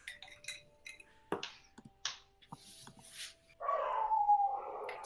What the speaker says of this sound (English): We hear the dogs